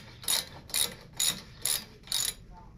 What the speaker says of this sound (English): First thing I want to do is loosen up this pinch bolt on the front axle. That's going to take a 5/16 Allen.